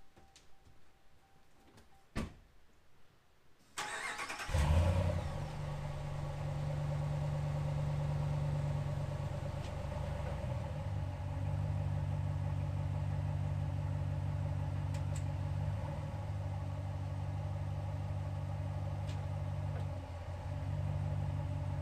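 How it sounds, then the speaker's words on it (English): A Dodge Ram 1500 truck engine cranks and catches after a few quiet seconds, then settles into a steady, fairly close idle with a deep, even low rumble that continues to the end. "I'm gonna go start the truck up and put it in reverse"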